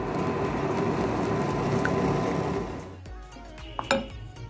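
Sooji cake batter being mixed in a bowl: continuous scraping and swishing for a few seconds, then it stops and a few light clinks follow.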